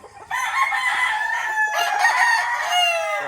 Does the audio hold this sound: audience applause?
no